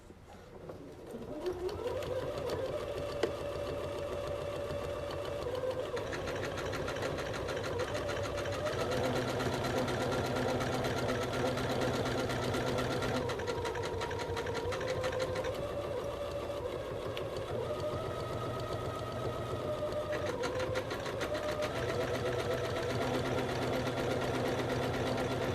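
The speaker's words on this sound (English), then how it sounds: "So I've chosen a normal buttonhole, just square," A sewing machine stitches a square buttonhole in one long, steady mechanical whir, its pitch shifting slightly as the stitching changes direction. It runs close and alone, with no talk over it.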